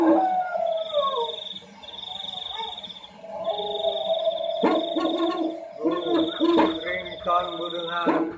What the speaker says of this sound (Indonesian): burung hantu.